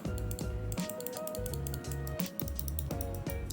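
A Pulsar Xlite Wireless computer mouse clicks repeatedly in sharp, crisp taps, close up, over steady background music.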